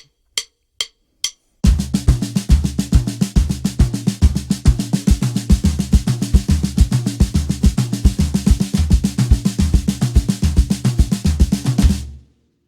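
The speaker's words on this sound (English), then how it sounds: "If I put that onto the drums, it sounds a bit like this." Three crisp stick clicks count in, then a drum kit plays a fast, steady flam accent pattern for about ten seconds before stopping.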